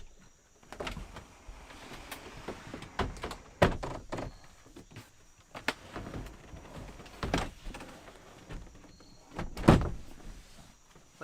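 A wooden bed panel in a van conversion slides out toward the middle, giving a run of clunks, knocks and scraping thuds with a few sharper bangs.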